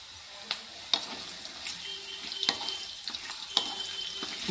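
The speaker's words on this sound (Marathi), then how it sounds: "फ्राय करून घेणार आहोत त्याला जास्त तेल लागत नाही कमीच तेल लागतं" Okra (bhindi) fries in a little oil in a pan with a steady, quiet sizzle, broken by occasional clinks and scrapes from stirring, close by and with no talking.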